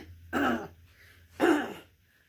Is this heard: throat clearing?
yes